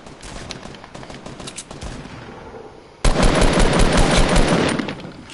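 Video game gunfire crackles in rapid automatic bursts, moderate at first, then jumping abruptly to a much louder, dense barrage of close shots in the second half.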